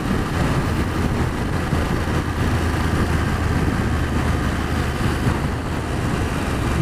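A BMW F750GS motorcycle engine runs steadily after being shifted into gear, giving a continuous close, loud rumble with wind noise mixed in and no pauses.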